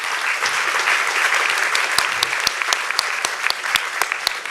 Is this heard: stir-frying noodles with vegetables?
no